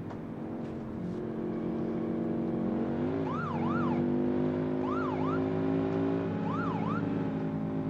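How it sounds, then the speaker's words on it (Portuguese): Police car siren in the driving game BeamNG.drive, a wailing up-and-down tone that repeats steadily over a continuous engine drone, loud and close. "Vamos ter que ligar a sirene aqui, ó."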